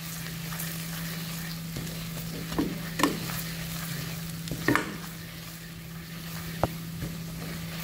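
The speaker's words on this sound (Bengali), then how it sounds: "এটাকে এভাবে নাড়িয়ে কন্টিনিউয়াসলি 2 মিনিটের মতন পাকিয়ে নেবেন" Gram flour (besan) is stirred continuously as it roasts in a pan for bottle gourd kofta curry, giving a soft, steady frying hiss over a low hum, with occasional sharper scrapes of the spoon and no talk.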